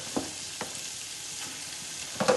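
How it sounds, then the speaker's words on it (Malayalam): Curry leaves drop into garlic and green chillies frying in a pan for Kerala garlic pickle, giving a steady low sizzle broken by a few sharp spits and crackles, loudest near the end, with no voices. "ഇതിലേക്ക് ഞാൻ കറിവേപ്പ് ഇടുന്നുണ്ട്"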